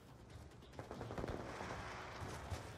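Gunfire in the video game Call of Duty Black Ops 2 comes as a quiet, rapid automatic burst of shots, followed by scattered further pops over a steady background.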